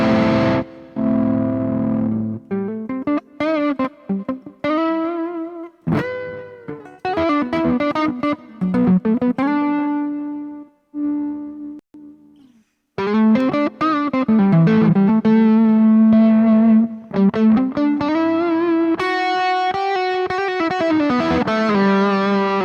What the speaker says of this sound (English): you hear that noise suppressor choking